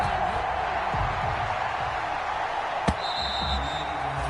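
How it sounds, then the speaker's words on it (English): Steady roar of a stadium crowd at an NFL game between the Chicago Bears and the Philadelphia Eagles in a PlayStation 4 football video game, a continuous broad wash of noise with one sharp thump partway through. "This crowd is ready as their guys get set to match up between the Chicago Bears and the Philadelphia Eagles."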